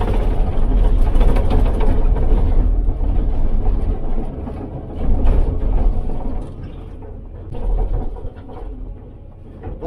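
A crushing-site excavator engine roars loud and low in fast travel speed, with rumbling clatter that eases and swells again toward the end.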